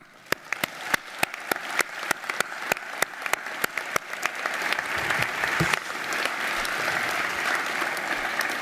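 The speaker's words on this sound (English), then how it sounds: "So to warm up your applause, please can we thank all of our graduating research students now." A graduation ceremony audience for the School of Science, Engineering and Environment applauds graduating research students, beginning with a few sharp individual claps that quickly swell into dense, sustained applause filling the hall.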